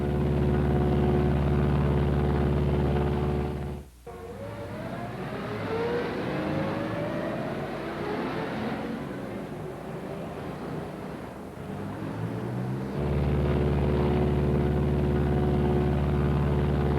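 A Martin B-26 bomber flying on a single engine: a loud, steady droning engine hum that drops away after a sharp break, gives way to a rushing, shifting roar, then returns to the steady drone.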